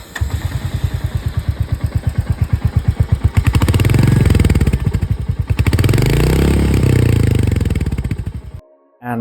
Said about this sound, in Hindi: इतना ही अच्छा है इसका एग्जॉस्ट साउंड भी है